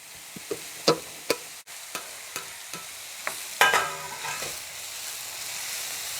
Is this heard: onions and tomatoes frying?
yes